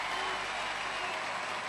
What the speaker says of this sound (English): Louis, Lavern's dad, leads the applause